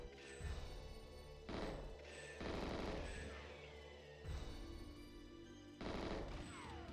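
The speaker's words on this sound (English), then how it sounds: "all I gotta do is shoot the locks" In the GoldenEye XBLA game, gunshots blast at the locks of a ventilation tower. Four or five loud, booming shots come at irregular intervals over a continuous game background hum.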